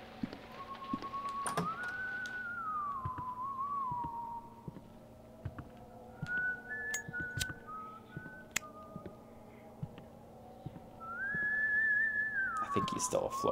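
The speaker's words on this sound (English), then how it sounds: "He just stopped whistling." A pursuer whistles a wavering tune in the horror video game White Day, rising and falling through several phrases amid an ambient game background with scattered clicks and knocks.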